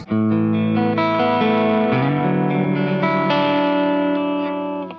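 Electric guitar chords ring out through a VHT Classic 18 tube combo amp with a slightly driven, warm tone, sustaining and layering before fading at the end; no one speaks.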